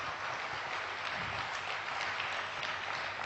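Audience welcoming a speaker at a spiritual talk with a steady, even wash of clapping, heard from some distance and fairly quiet throughout.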